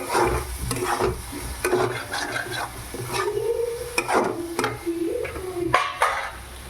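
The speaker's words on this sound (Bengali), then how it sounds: "দিয়ে আরও একটু ভালো করে কষিয়ে নেব।" Masala with dry red chilli powder and Kashmiri chilli being sautéed for Schezwan chicken, stirred in a pan: soft scraping strokes and a low sizzle, close and continuous, with no voices.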